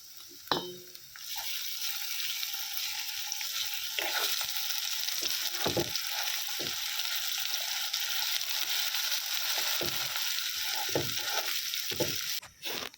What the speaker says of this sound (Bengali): এই যে আদা রসুনের যে পেস্টটা করে রেখেছিলাম এটা দিয়ে দিলাম